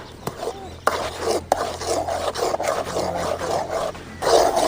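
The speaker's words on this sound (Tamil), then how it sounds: "நல்லா கிளறி விட்டுக்கணும்." Moong dal ukkarai being stirred with ghee in a pan, a steady rasping scrape of spoon against metal repeating through the whole stretch, close and fairly loud, with short knocks.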